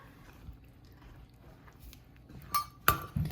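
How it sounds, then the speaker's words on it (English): Muffin batter stirred in a bowl with a spatula: faint soft scraping over a quiet room, then a couple of sharp, close clinks against the bowl near the end. "I'm gonna mix it all together with my trusty spatula."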